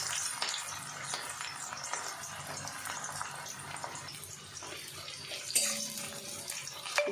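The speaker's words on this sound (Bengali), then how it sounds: "ভালো করে ভেজে নেব আমি পেঁয়াজগুলোকে" Chopped onions sizzle in hot oil with dried chilli, black cumin and green chillies, a steady close hiss and crackle that swells and dips over several seconds, with no talking.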